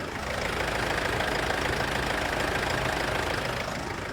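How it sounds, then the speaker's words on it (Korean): A Mercedes-Benz CLS engine idles with the air-conditioning fan running, giving a steady, even hum and rumble heard from nearby, with no talking. "엔진 소리 한번 같이 들어보시죠"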